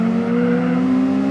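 A Honda Civic engine in Gran Turismo 4 drones at a steady high pitch during a race, a loud continuous tonal whine with no talk over it.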